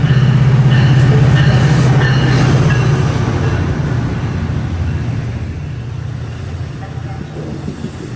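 A New York subway train rumbles loudly into the station, then gradually fades and slows as it pulls in.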